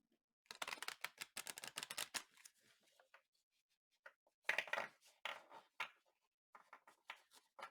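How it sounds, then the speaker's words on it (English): A heart-shaped oracle card deck is shuffled by hand, close and quiet, in two bursts of rapid papery riffling and tapping separated by a brief pause. "which is a heart-shaped deck, which is very challenging to shuffle"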